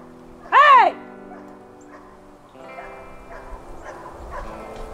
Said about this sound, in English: See, they're picking on that, the little dog.